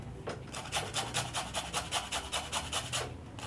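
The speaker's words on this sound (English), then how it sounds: "I'll use my grater and grate" Lemon zest is grated on a hand grater for a cupcake batter, a close, even rasping of roughly a dozen rhythmic strokes with short pauses between them.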